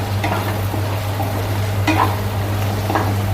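Crab paste goes into a spiced masala gravy for a crab curry, stirred in a pan with a continuous close sizzle and a few soft spoon scrapes.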